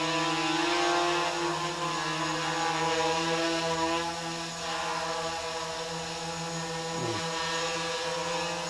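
A quadcopter on a KK2 flight controller with an iconic-X Sport frame hovers as throttle rises, its propellers giving a steady, loud multi-tone buzzing hum that holds nearly constant through the clip with a slight dip near the middle.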